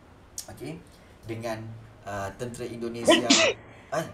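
A single sneeze bursts out near the end of a classroom history lesson in Malay, a sharp close burst following a stretch of a teacher speaking.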